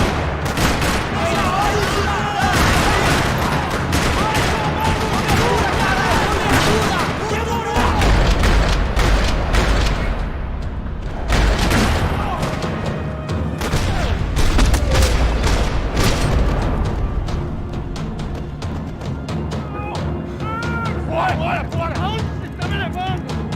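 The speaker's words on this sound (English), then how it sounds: "Another parking lot rattling with gunfire." Rapid gunfire in rattling bursts in Max Payne 3, set in a parking lot, with heavy booms, over a continuous backdrop and a voice talking.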